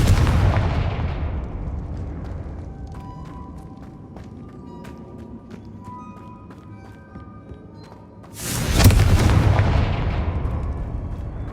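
A Confringo fire spell in Hogwarts Legacy, a video game, goes off with a loud booming burst that opens and closes the stretch. Between the two blasts sit quieter rumbling and a few bright chiming game tones.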